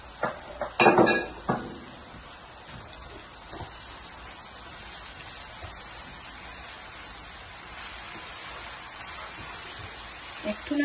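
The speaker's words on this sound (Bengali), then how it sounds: "একটু নাড়াচাড়া করে দিব যাতে পাট শাকটা একটু নিচে চলে যায়" A spoon stirs jute leaves (pat shak) in a metal cooking pot, giving a few sharp clinks and scrapes near the start, then a long soft hiss of cooking with occasional faint knocks.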